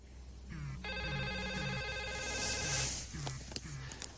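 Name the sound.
telephone ringing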